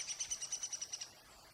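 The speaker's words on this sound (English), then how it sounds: "woodpeckers." Bird calls in a campsite woods near a dam, woodpeckers among them: a quick run of about nine bright, evenly spaced chirps over roughly a second, fairly faint and alone, then quiet.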